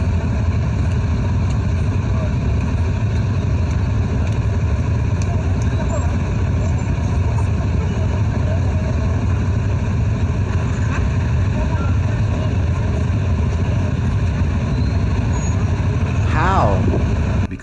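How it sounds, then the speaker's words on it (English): Busy street traffic in Bali, with cars, motorbikes and buses, makes a continuous loud rumble of engines nearby. A horn-like tone sounds near the end. "Because there are too many cars, too many motorbikes, too many buses, too many people."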